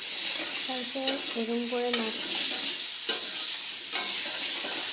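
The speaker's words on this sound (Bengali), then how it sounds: "এই যে আলুটা ভালো করে নেড়ে চেড়ে" Potatoes frying in oil in a pan: a steady hiss of sizzling with occasional knocks of a spatula being stirred through, while a voice speaks briefly over the cooking noise.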